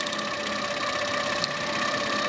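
An HQ Sweet Sixteen quilting machine stitches swirls with a steady, close mechanical whir and a rapid needle rhythm, alone and unbroken.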